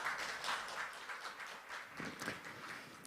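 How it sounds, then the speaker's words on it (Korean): Conference audience applauding a guest speaker at a corporate governance forum, a dense steady patter of many hands clapping for about three seconds at moderate level, with no voices over it. "여러분 뜨거운 박수로 맞아주시죠."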